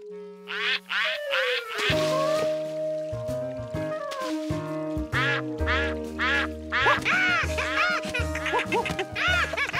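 Ducks quack repeatedly and loudly, overlapping in a busy chorus over a playful musical backing with sustained tones.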